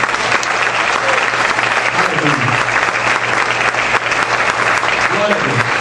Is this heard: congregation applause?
yes